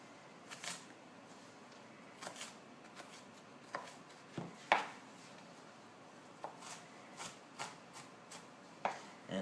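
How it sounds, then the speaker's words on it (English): Knife chopping thin onion slices on a board, sparse single cuts at irregular intervals, quiet and close with a soft background hush. "So now that they're in long, thin slices, I line them up, chop them"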